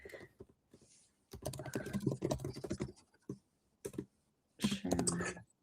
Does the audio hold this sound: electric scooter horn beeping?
no